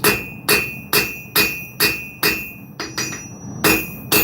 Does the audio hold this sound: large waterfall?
no